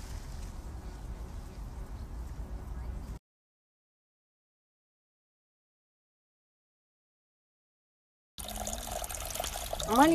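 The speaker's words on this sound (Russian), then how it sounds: "Маленький родничок Тропарёва." A small spring in Troparyovo trickles close by in a steady wash of running water, broken by a long silent gap before the flow returns.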